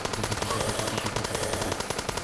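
Rapid, continuous machine gun fire in the zombie shooter Tequila Zombies 2, loud and close with an even, fast rhythm and no talking.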